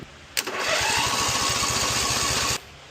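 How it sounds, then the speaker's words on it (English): A riding lawn mower engine cranks with its starter jumped directly: after a sharp click comes a fast, even chugging whir for about two seconds at close range, which then stops abruptly without the engine firing. "she's cranking, sounds pretty good, but sounds like she's not getting any fuel"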